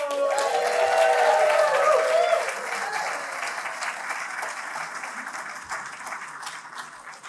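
An audience at a fiction reading at the Sewanee Writers' Conference applauds the author Tony Earley, with dense clapping that swells for two seconds and then gradually thins and fades.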